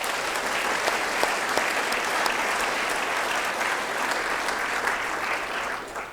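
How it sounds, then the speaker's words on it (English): An audience at a State of the City address applauds, giving a dense, steady wash of clapping from a large crowd that fades slightly at the end. "Let's give them another hand of applause."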